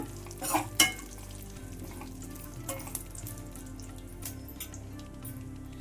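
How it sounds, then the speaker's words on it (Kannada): Coconut pieces, added after cashews for sweet pongal, fry in a pan with a soft sizzle, while a few sharp clatters and scrapes of a utensil stand out early on and a low hum runs underneath. "ಕೊಬ್ಬರಿ ಹಾಕೋತಾ ಇದ್ದೀನಿ ಪೀಸ್ ಪೀಸ್ ಮಾಡಿಟ್ಟು ಕೊಬ್ಬರಿ ಎಲ್ಲ ಒಂಥರ ಕಂದು ಬಣ್ಣ ಬರಬೇಕು ಅಷ್ಟವರೆಗೂ ಹುರ್ಕೊಳ್ಳೋಣ"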